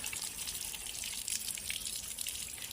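Water splashes and pours steadily while a toy sports car is washed in green water, a continuous close wet rush of gushing and dripping with no talk.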